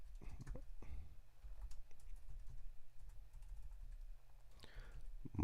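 Scattered clicks of typing on a computer keyboard, close and fairly quiet, in irregular bursts against low background hum, with a faint voice near the end.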